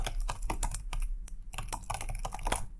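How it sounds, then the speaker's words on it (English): Rapid, irregular clatter of keys typed on a computer keyboard during a Linux demonstration, close and steady for a few seconds with no voice. "But let's type something."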